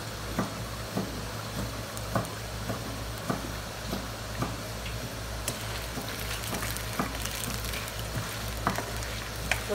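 Chiles de árbol fry in a pan with a steady, dense sizzle, close and even, broken by small irregular pops and occasional stirring clicks.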